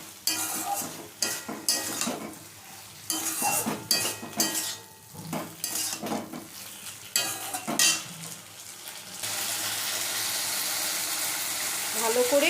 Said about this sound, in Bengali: পোস্ত আর কাঁচা লঙ্কা বাটাটা দিয়ে দিয়েছি। এবারে ভালো করে ভেন্ডির সাথে মিশিয়ে নিচ্ছি।